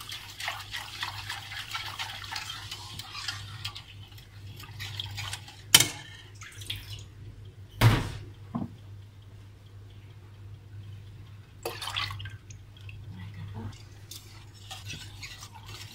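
Yogurt is stirred in a cooking pot with soft, irregular scraping and swishing, a steady low hum beneath and a few sharp knocks of the utensil against the pot.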